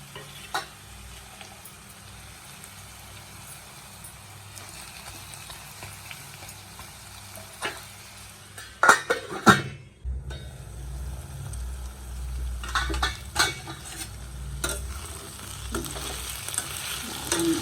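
Sliced onions and drumstick pieces fry in a pan with a steady close sizzle, interrupted midway by a few clattering stirs before the frying continues a little louder.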